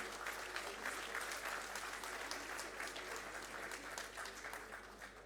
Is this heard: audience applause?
yes